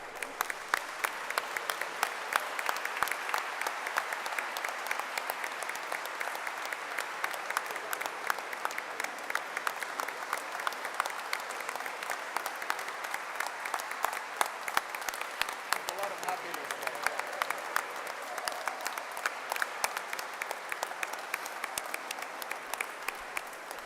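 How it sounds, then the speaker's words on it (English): Sustained applause from a graduation ceremony audience honoring graduates, a dense, steady wash of many hands clapping that holds evenly for the full stretch without pause. "you should stand up one more time and take an applause"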